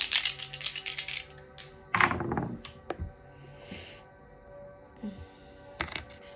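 Astrology dice clatter and tap against a hard surface in a quick burst of rattling knocks, followed by a few scattered lighter taps as they settle.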